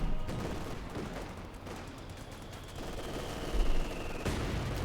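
Dense gunfire from Company of Heroes 2, with a .50 cal machine gun rattling among other weapons and a heavier thump near the end, forming a continuous loud battle din with no voices.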